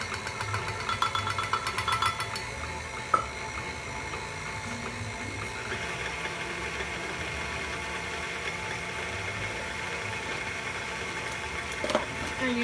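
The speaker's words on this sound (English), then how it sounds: "with the dough hook, and I'm going to go ahead and turn it on low, and I'm going to add a cup of flour at a time" A stand mixer fitted with a dough hook runs on low, kneading focaccia dough in a steady, close mechanical whir and rattle, with a couple of brief knocks and no talking.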